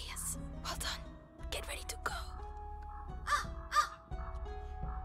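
Crows caw in the A Plague Tale video game, a few short raspy calls standing out over a low rumbling game soundscape with tonal music, while people talk quietly in the background.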